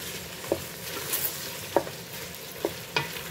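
Curry ingredients frying together in a pan, a steady close sizzle with occasional sharp scrapes and stirring knocks at irregular intervals, no talk.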